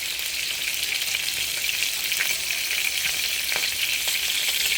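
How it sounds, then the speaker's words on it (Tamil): Eggplant fries in butter in a pan, giving a continuous bright, even sizzle with faint crackles and no voices. "இந்த பட்டர் போட்டால் இதோட கத்திரிக்காய் ஆட் பண்ணிடுவோம்"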